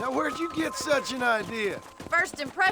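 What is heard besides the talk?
No distinct noise like a dog, phone or traffic.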